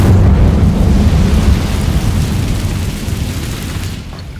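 An Incendio fire spell is cast in the game Hogwarts Legacy, a loud deep roaring whoosh of flame that rumbles steadily and slowly fades away over about four seconds.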